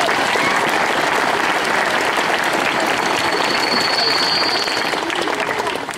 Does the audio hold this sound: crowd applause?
yes